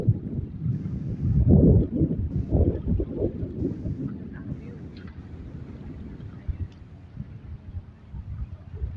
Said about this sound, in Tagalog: Mahangin na at saka malakas ang alon.